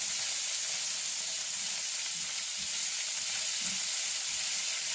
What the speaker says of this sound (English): And let those saute with that garlic.